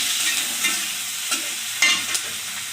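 Dried fish frying with onion in a pan, a bright continuous sizzle with a few soft stirring knocks spaced through it.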